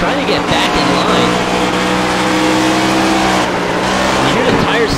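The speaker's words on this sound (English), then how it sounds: "You hear the tires slip out, and he thought he had it saved, but it slips back up in the traffic" Race cars roar through traffic in a NextGen Series racing video game, with steady engine drone and a brief squeal of slipping tires near the end, under a continuous loud mix.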